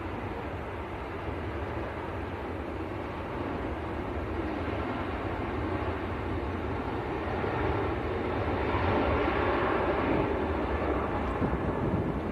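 A Ryanair airliner takes off from Manchester Airport bound for Murcia, its broad jet roar steady and moderately loud. The roar swells slightly toward the end, with no voices over it.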